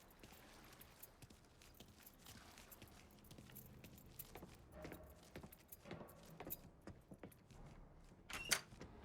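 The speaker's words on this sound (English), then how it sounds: "Hey, man, grab those keys." Keys jangle as they are picked up in Mafia 3, a light metallic rattling amid soft clatter and background game sounds, with a brighter burst near the end.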